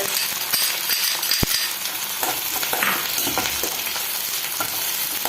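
Green chilies hit hot oil with toasted fenugreek for a Kerala-style potato curry, giving a steady close sizzle and crackle, one sharp metallic clink early on, and no talking.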